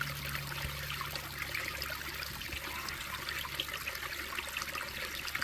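A steady broadband rush of water runs from a stream or spring beside a mountain hiking trail on the Appalachian route near Blue Ridge Gap, continuous and fairly close, with no voices.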